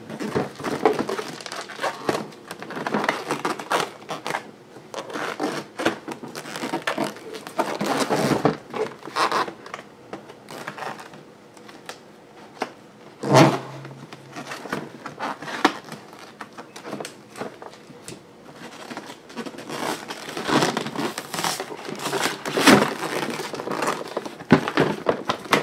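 A Dremel 8220 cordless rotary tool being unpacked from its box, with repeated rustling, crinkling packaging, scraping cardboard and soft knocks at close range, in irregular bursts.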